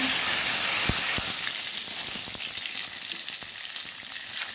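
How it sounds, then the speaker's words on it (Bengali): Bay leaf sizzles in hot oil in a kadai while cooking Bengali mutton curry, a steady close frying hiss with faint crackles and no talking. "এখন এবার কড়াইতে তেল দিয়ে, ওই কড়াইটাতেই তেল দিয়ে দিচ্ছি তেজপাতা"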